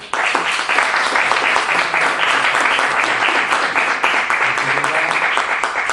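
Steady, dense applause from an audience at a talk, honoring Dr. Socorro Apreza; many hands clapping at an even level throughout, close and continuous with no speech over it.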